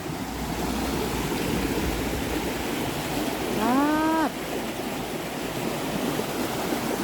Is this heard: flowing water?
yes